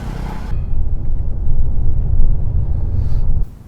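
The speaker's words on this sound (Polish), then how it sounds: "Jedziemy takim oto Lexusem" Steady low engine rumble and road noise inside a moving Lexus used as a shared taxi carrying extra passengers in Cambodia, continuous and fairly loud, then cutting off abruptly near the end.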